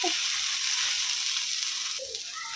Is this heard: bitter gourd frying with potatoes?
yes